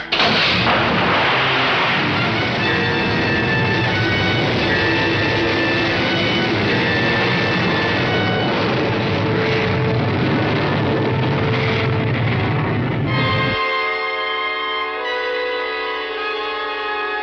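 A test missile launching from a submarine: a loud, sustained roaring blast that fills the scene for about thirteen seconds, then cuts off sharply into a quieter, thinner hum.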